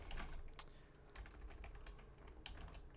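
Quick, close keystrokes on a computer keyboard as a search is typed, with soft irregular clicks over a faint steady hum and no talking.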